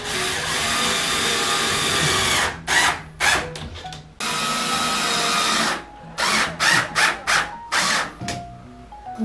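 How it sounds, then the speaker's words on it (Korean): A power drill whirs in long, loud bursts, then in short stuttering pulses, while curtains are installed at home, with a hard edge of drilling into a wall. "드릴 소리"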